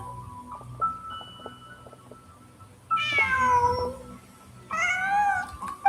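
A cat in a video game meows twice, each a drawn-out, wavering call standing out loudly over a quiet ambient background with faint soft tones.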